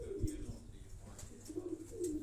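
Teddy pigeons, a fancy breed kept at home, give soft low cooing calls, a few muffled rolling coos close by against a quiet background, with no one talking.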